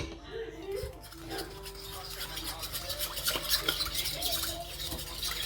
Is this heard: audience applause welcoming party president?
no